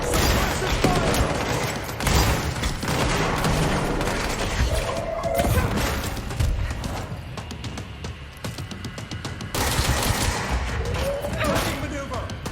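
Suppressive gunfire from a firefight in the action game Control, with dense, loud bursts of automatic shots and booming impacts running almost continuously, mixed with shouted combat callouts.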